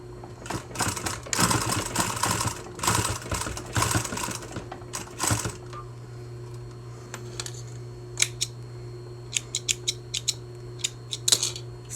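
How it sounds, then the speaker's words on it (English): Domestic sewing machine stitching the ears onto a plush chibi toy: a rapid stuttering run of needle clatter over a low motor hum, then scattered single clicks and taps as the work is adjusted. "I'm going to sew it from the bottom up"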